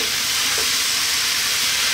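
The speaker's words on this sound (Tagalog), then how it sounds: "maglalagay na tayo ng white pumpkins o upo. Haluin lang natin sandali." White pumpkin (upo) being stirred in a frying pan with tomatoes, giving a steady, loud broadband sizzle with faint scraping throughout and no voices.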